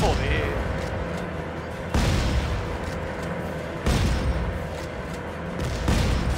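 Repeated shotgun blasts from the video game Dead Space 3, played in co-op on hard difficulty, sounding as loud booms at roughly two-second intervals over a continuous rumbling game soundscape.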